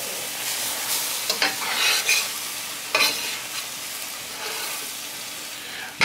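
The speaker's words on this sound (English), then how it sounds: "Mix it well." Potato and fenugreek sabzi is stirred in a pan over medium gas, a soft continuous sizzle broken by several scraping, shuffling strokes of the spoon, close and fairly loud.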